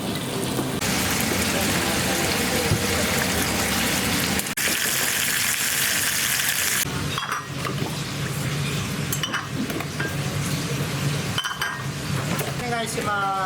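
Ramen served in a hot iron pot at a Toyama ramen shop, sizzling and crackling loudly and steadily throughout, with restaurant voices talking over it.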